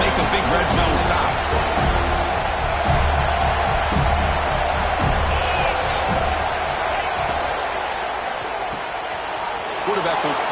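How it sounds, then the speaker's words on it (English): A stadium crowd at an FSU vs Miami college football game keeps up a steady, dense roar throughout, with a commentator talking over the noise. "And here comes the noise. This crowd is trying to inspire this defense to make a big red zone stop."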